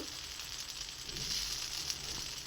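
Onion pesarattu batter sizzles on a hot pan with a steady, close broadband hiss that swells slightly midway, with no voices.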